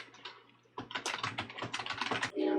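Quick typing on a computer keyboard, a close run of crisp key clicks that grows denser and louder after a brief quiet start, with no talking.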